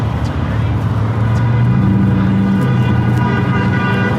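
Car horns sound in busy street traffic, sustained honks held over a loud steady roar of engines and road noise, with a few brief higher tones and people talking in the mix.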